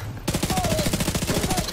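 Rapid automatic gunfire in The Division 2, a fast, regular burst of shots close up that starts abruptly and runs without a break to the end.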